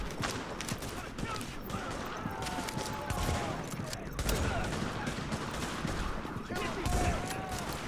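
Rapid, overlapping gunfire from The Division video game crackles in dense bursts throughout, with a few louder shots standing out while players talk over the shooting.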